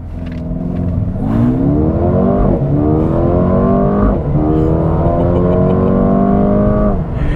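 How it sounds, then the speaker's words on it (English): A 2021 Mercedes-AMG A35 launches hard under launch control, its engine note loud and close, climbing in pitch through repeated gear shifts with brief dips between each pull. "let's do a launch control here really quick"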